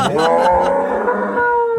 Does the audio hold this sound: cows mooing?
yes